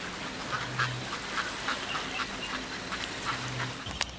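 Ducks quack in a steady series of short, raspy calls spaced roughly evenly, with a low background hum and no voices.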